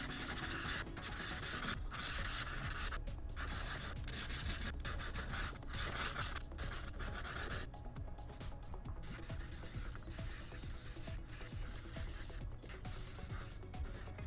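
Sandpaper rubbing over Boba Fett armor parts, a steady scratchy friction that runs continuously with brief pauses and changes in stroke, fairly close and moderately quiet, with no talking.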